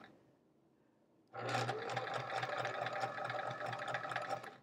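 A treadle sewing machine chain piecing quilt chevrons starts up after a quiet moment and runs steadily and loudly, with a fast even stitching rhythm and a low thumping drive.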